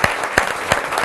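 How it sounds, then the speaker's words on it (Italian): Audience applause greets a guest at a televised sports talk event, a steady close clatter of clapping hands with a few sharper claps standing out, no voices over it. "Un applauso a Federico."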